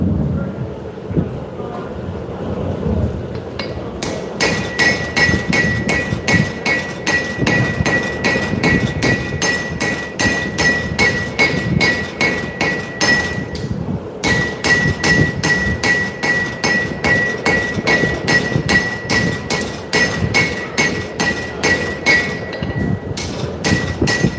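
Blacksmith's hammer striking hot metal during a live forging demonstration at a show, a fast steady train of ringing blows running in two long bursts with a short pause between, loud and close.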